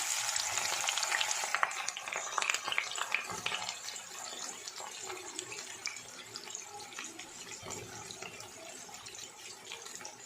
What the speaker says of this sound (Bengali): আগে থেকে কেটে রাখা পেঁয়াজগুলো কড়াইতে এবার দিয়ে দেবো